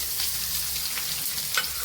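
Garlic dropped into hot oil with fennel seeds already browned, cooking for a field-bean and grated-coconut poriyal. It gives a steady, close, even sizzle with a faint stir or two and no voices.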